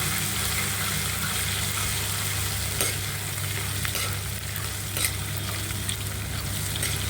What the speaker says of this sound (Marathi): आणि कढीपत्ता. छान मिक्स करूया.